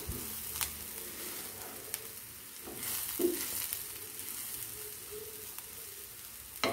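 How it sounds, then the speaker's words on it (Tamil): Ragi flakes upma mixed in a pan, a faint low sizzle broken by soft scrapes and a few quiet spoon taps, with a brief louder rustle partway through. "நம்ம அப்படியே இதை மிக்ஸ் பண்ணி எடுக்க வேண்டியது"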